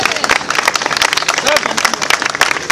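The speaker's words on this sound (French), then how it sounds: "on peut l'applaudir alors." Audience clapping at a carnival enthronement ceremony in a French town hall setting, a lively spatter of close, uneven hand claps mixed with crowd murmur and voices talking over it.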